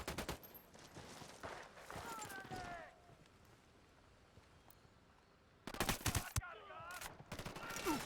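Bursts of automatic gunfire crackle in Ghost Recon Wildlands, a rapid volley at the start and another sharp burst near the end, with a quieter gap between.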